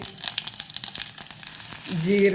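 Mustard seeds sputter and crackle in hot oil for a Kannada-style beetroot pallya, a dense close sizzle with rapid popping that swells louder near the end as cumin goes in.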